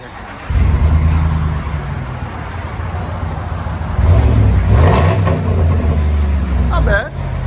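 Car engine revving through a Flowmaster muffler exhaust, a loud continuous deep rumble that swells twice, with people talking over it.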